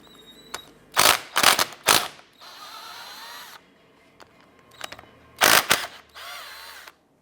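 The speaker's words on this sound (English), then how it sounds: "Using a 14mm socket, we're going to remove the 2 bolts or slide pins." Ratchet with a 14mm socket turning out the slide-pin bolts on the rear brake caliper of a 2008-2013 Nissan Rogue, sharp close bursts of rapid clicking between quieter stretches of whirring mechanical sound.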